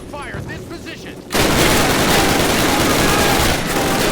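Sustained, dense machine gun fire from a half-track gunner in the Call of Duty World War II game bursts in loud and continuous after a brief stretch of talk, rattling steadily to the end.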